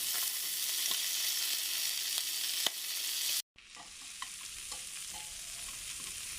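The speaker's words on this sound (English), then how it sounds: "And we continue to move those sausages around to make sure we get coloration on all sides." Sausages sizzle steadily in a hot pan while they brown, with a few light clinks as they are moved around. The sizzle drops out briefly, then returns a little quieter, with occasional tool taps and no speech.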